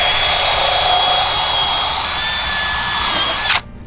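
Bissell Pet Stain Eraser handheld carpet cleaner motor running steadily on carpet, a loud continuous high-pitched whine with a whirring hum beneath, holding evenly before cutting off abruptly near the end.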